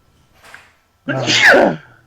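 A single loud, close sneeze, preceded by a faint intake of breath, bursting out and trailing off quickly.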